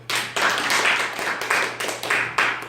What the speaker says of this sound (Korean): 공감하시는 분 박수.